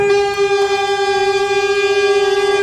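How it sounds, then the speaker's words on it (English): A saxophone section holds a sustained reedy tone steady on one pitch at a concert, loud and close, with rich upper harmonics and no talking. "Saxophones have the largest instrument of all of us in the woodwinds."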